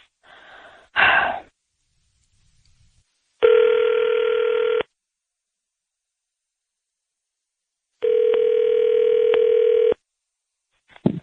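A phone line ringing after dialing: a breathy sound and a click first, then two long, evenly spaced electronic ring tones separated by silence, loud and close, ending with a click.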